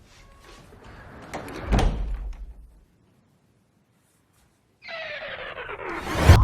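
A door opens in a film scene with a creaking, scraping swell that peaks in a sharp thump, followed by silence and then a bright, tonal squeal ending in another thud.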